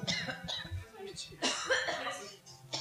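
Several short coughs and throat-clearing bursts sound at a concert event, close and irregular, mixed with a little laughter and murmuring.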